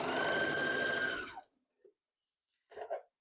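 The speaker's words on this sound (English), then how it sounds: "And then you're going to sew down that edge." A sewing machine runs steadily for about a second and a half, stitching down the edge of a quilt seam, then stops, leaving faint clicks and small handling noises.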